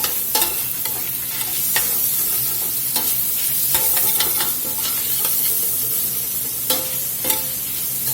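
Cabbage fries with bacon and sausage in a pan, a loud, steady sizzle broken by repeated scraping and clattering stirs.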